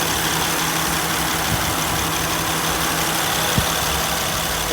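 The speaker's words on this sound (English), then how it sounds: "you can see the AC compressor cycling." A 2008 Honda Accord EX-L V6 coupe idles steadily with its A/C compressor running after a system regas, a constant low engine hum with a faint tonal drone and a brief click near the end, no talk.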